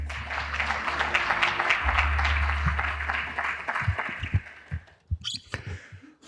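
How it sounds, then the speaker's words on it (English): Dense audience applause at a Korea-US industry and technology cooperation forum fills the first few seconds, then thins out and gives way to a voice with some handling noise. "Please welcome him with a big round of applause."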